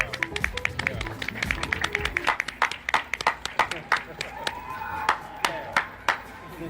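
Recorded audience applause from a performance plays back, a dense patter of claps that thins into scattered, sharper hand claps near the end.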